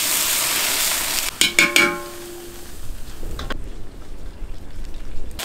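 Rice vinegar goes into a sizzling iron wok while a big fish head stew is being prepared, giving a few sharp hissing splashes followed by a softer, steady frying crackle.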